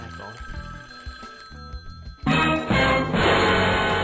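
A mobile phone rings loudly and close by, a bright trilling tone that cuts in partway through after a stretch of quieter sound with voices, then keeps ringing steadily to the end.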